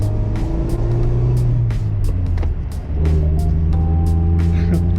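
Manual-transmission car engine running steadily under load, with a revving pitch that rises, breaks off briefly for a gear change, then climbs again, close and continuous, with brief clicks on top.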